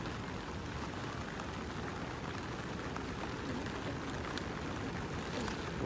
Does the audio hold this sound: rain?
yes